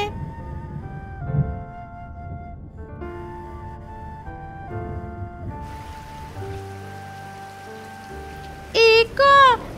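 Rain falls in a jungle as a story sound effect, a soft steady patter under a sustained musical drone, with a few chirpy bird calls near the end.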